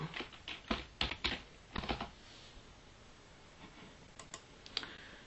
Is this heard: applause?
no